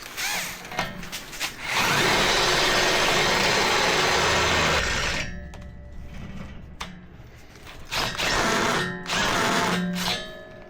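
A cordless drill spins up in bursts with a whining motor hum, running for several seconds, pausing, then revving again in short pulses, heard close and alone.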